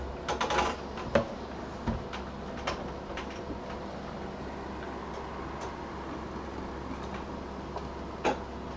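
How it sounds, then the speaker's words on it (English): Computer keyboard being typed on, heard as sparse, faint clicks and taps scattered over a quiet room hum. "Click the keyboard."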